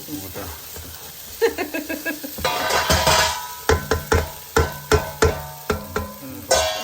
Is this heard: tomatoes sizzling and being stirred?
yes